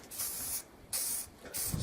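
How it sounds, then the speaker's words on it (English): Aerosol spray paint hissing onto a raised BigTrak toy in a tack coat, in three steady bursts of about half a second each with short pauses between, close and fairly loud. "We're just going to spray it."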